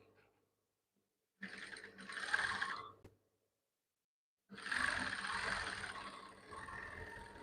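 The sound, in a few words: sewing machine stitching the shoulder seam of a bubu dress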